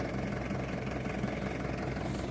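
A farm tractor engine runs at the end of the harvest season, a steady dense low rumble with a knocking, vibrating texture, close and continuous throughout with no voices.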